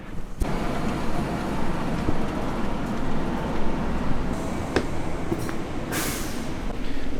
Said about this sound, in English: The train is starting to move.